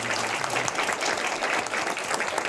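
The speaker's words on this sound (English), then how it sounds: "let's just give a round of applause." An audience applauds after a talk at a panel of consuls general on emerging tech in Asia, with an even, close round of many hands clapping, steady throughout with no voices over it.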